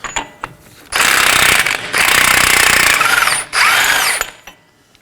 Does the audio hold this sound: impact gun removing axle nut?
yes